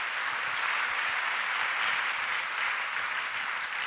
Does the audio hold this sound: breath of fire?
no